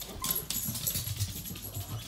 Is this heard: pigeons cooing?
no